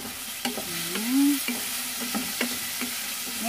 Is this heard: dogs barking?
no